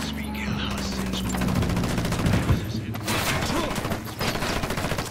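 Sustained gunfire in Ghost Recon Wildlands, a dense rattling fusillade of rapid automatic shots layered with low booms, loud and continuous throughout with no pauses.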